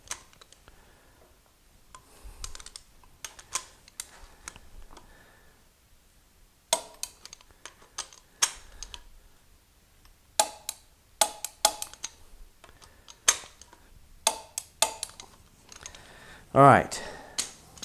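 A click-type torque wrench tightens the oil pump bolts to 35 foot-pounds on an Olds 455 engine being built for a 1987 Olds 442. Close, sharp ratcheting clicks come in irregular bursts, with a short spoken remark near the end.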